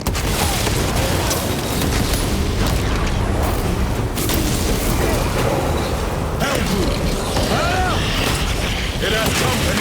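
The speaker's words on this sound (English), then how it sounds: "Frag grenade out!" A frag grenade going off amid Space Marine 2 combat, heavy booming blasts over constant loud battle clatter and bursts, with voices talking throughout.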